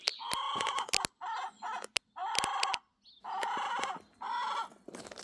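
Hens in a garden coop cluck and grumble in repeated bursts, loud and close, with sharp harsh squawks mixed between the longer complaining calls and short gaps of quiet.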